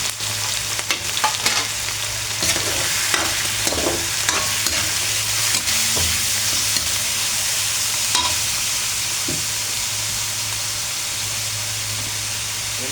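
Meat frying in a hot pan while being stirred for a home-cooked dinner: a steady, loud sizzle runs throughout, broken by scraping stirring strokes and small pops, with no talking.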